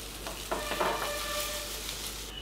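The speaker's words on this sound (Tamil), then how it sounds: "நல்லா மசாலாலாம் நல்லா படுற மாதிரி நல்லா கலந்து விட்டுருங்க" Potatoes frying in masala in a pan, a steady close sizzle with a few scraping stirs of the spoon through the mixture, no talking.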